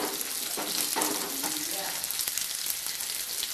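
Garlic and onion sauté in a pan for a Tamil garlic curry. A steady, close sizzle and crackle carries through, with faint stirring scrapes and no speech.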